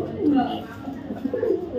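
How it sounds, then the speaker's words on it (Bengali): Large, crested, purebred Bombai pigeons coo in low, throaty, rolling tones, close and fairly loud, mixed with a person talking nearby. "একদম র ব্রিডের অরিজিনাল বোম্বাই কবুতর"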